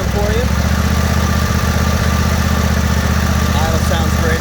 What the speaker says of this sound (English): Engine runs super smooth. No smoke. Idle it down for you.